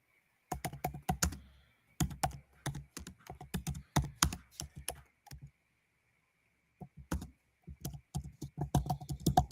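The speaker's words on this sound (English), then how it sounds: "I'm typing it in so you can at least answer." Bursts of rapid typing on a computer keyboard in a sports talk studio, quick close clicking runs broken by short pauses, soft and with no voices over it.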